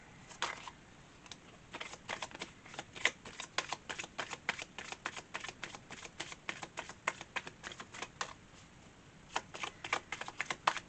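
Tarot cards being shuffled make quick, crisp riffling and tapping sounds in steady bursts, close and fairly quiet, with no talking.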